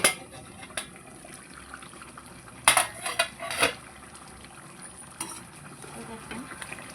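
A metal lid is lifted off a pot of simmering chicken curry, giving a few sharp clanks and rattles midway over a quiet, low kitchen background.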